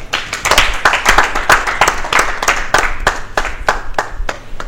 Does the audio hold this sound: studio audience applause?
yes